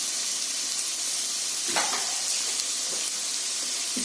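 Cauliflower and rice stir-frying in a hot pan for gobi fried rice, a loud steady hiss of sizzling with a brief stirring scrape partway through.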